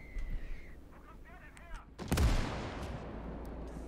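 A single heavy artillery gun shot in Call to Arms: Gates of Hell, a World War II strategy game, booming out around the 2-second mark with a long rumbling tail, after softer background battle noise and faint speech.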